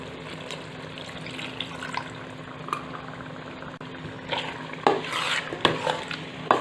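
Masala for pav bhaji is stirred in a pan with stock water, soft scraping and liquid swishing building into louder clatters toward the end, with no talk.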